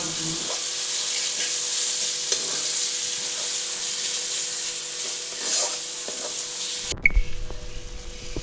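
Spice paste and chopped tomato sautéing in a pan for Bengali-style chicken kosha: steady close sizzling and frying with occasional stirring scrapes, ending in a louder hiss and bubbling as more liquid goes in.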